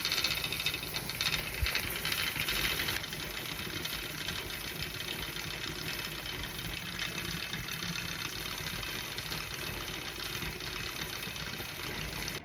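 A pressure cooker's lid rattles steadily as steam builds inside, a continuous close buzzing clatter that holds at an even level throughout with no voices.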